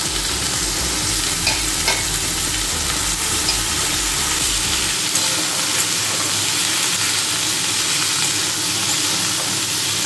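Mixed vegetables frying and being stirred in a hot pan for a home-cooked meal: a loud, continuous sizzle with a bright hiss, scraping stir strokes in the first half, then a steadier sizzle alone.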